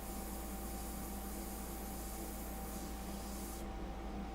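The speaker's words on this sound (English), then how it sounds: "You can also do it straight with the airbrush, like right here." An airbrush spraying India ink gives a steady, faint hiss of compressed air lasting a few seconds, with a low hum beneath it and no talking.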